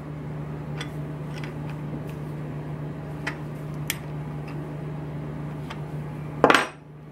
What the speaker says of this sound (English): tightening down the bolt with the wrench